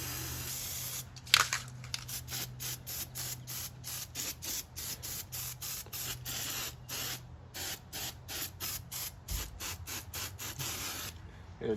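An aerosol cleaner sprays onto a motorcycle's four-stroke header in a long run of short, rapid hissing pulses, close and steady, with a brief knock near the start.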